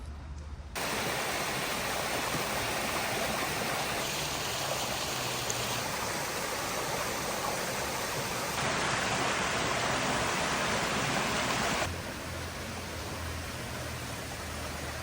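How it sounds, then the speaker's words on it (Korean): A mountain stream on Achasan in Seoul flows steadily, a broad, even rush of water that holds constant and fairly soft for the whole stretch, shifting slightly in level as the listener moves along the trail. "파란 하늘과 점점 가까워지는 물소리에 마음이 들뜹니다."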